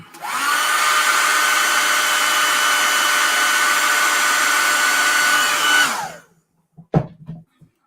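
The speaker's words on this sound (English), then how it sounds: "Hit this with a blow dryer real quick" A blow dryer runs with a loud, steady whooshing roar for about six seconds, then cuts off, followed by a few light clunks.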